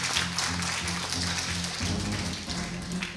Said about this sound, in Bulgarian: Аплодисменти, моля!